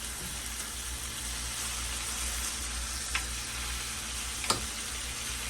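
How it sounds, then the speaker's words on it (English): Pot roast meat sears in a hot pan with a steady, close sizzle and frying hiss throughout, broken by a couple of brief clicks or taps, no talking. "so we're just gonna let it get a little seared on each side"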